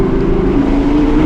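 An Audi R8 V10 Plus with a Capristo exhaust holds a loud, steady engine drone, close and sustained, with no talking.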